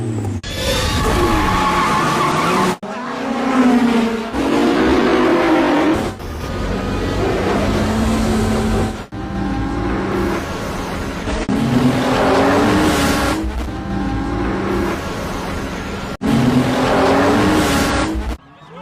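Street race cars revving hard and accelerating with tire squeal and skids, set in a Fast and Furious–style street race; loud, continuous engine roar rising and falling in repeated surges across the whole stretch, with no talk.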